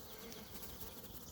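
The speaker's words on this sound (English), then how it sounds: "packed with bees" Honey bees swarm around a packed beehive, filling the air with a dense, steady, close buzzing that never lets up.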